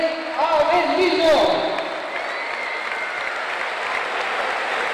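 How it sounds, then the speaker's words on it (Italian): Audience applause at a volleyball team presentation in Avellino, a loud, continuous roar of clapping with a few voices and whoops early on, holding steady to the end. "facciamo questo applauso di molto lungo alla Silvia HS Volley Avellino"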